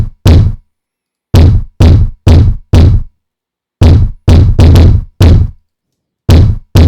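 Punchy kick drum processed with a Brainworx bx_subsynth sub-harmonic plugin, a dozen deep, tight thumps in an irregular pattern with clean silence between hits, loud and dry.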